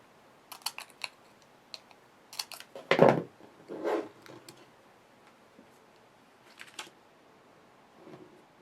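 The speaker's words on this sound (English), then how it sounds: "these pearls are all connected together, so I'm just going to cut them apart" Scissors snip apart a strand of connected sugar pearls for cupcake decorating, giving a scattered series of sharp, close clicks and snips separated by quiet pauses.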